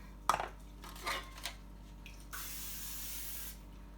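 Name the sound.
cooking spray on muffin tin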